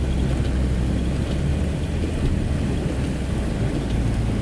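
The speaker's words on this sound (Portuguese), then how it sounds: "Olha a chuva, meninas." Heavy, steady rain roaring over a broad wash of rushing water on a flooded street in São Luís, Brazil, loud and continuous with no voices.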